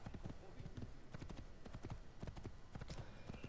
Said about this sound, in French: Mais non, je cours pas, je galope.